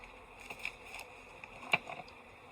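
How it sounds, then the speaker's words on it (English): Honeybees buzz around a hive in the fall, a steady low hum with a couple of brief louder passes close by. "The bees are hungry."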